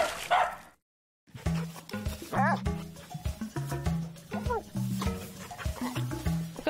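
An English Springer Spaniel barks and yips repeatedly in close, uneven bursts, with whimpering tones in between, after a short full silence.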